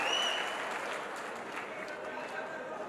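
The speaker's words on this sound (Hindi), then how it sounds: "जोरदार तालियों से" Audience applause for a poet coming to the mic at a mushaira, a steady, dense wash of clapping that runs through the whole moment and eases slightly toward the end.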